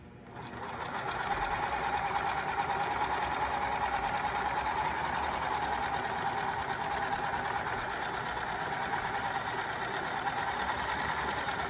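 Sewing machine running a steady, continuous stitch through a two-ply napkin, close and even for about ten seconds after a short start.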